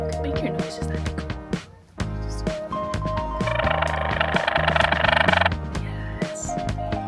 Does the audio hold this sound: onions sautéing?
no